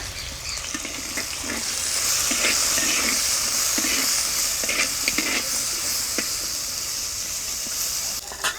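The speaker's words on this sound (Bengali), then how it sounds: "এবারে উচ্ছাগুলো ভেজে নেব দিয়ে দেবো অল্প হলুদ" Bitter gourd pieces fry in a pan with turmeric and salt, a steady close sizzle and hiss with occasional soft stirring clicks, no voices.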